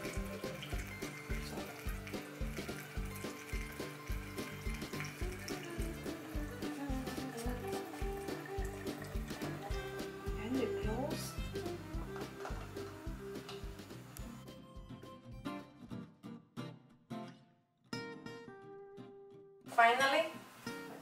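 Bubbly homemade sparkling ginger wine pours and fizzes into bottles in gurgling, trickling bursts, fairly quiet, with a voice talking over parts of it and a brief louder splash near the end.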